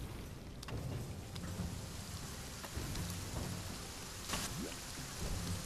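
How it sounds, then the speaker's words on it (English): Steady rain pours down with a dense, continuous patter, and scattered louder drips and splashes stand out over it. No voices are heard. "Rain."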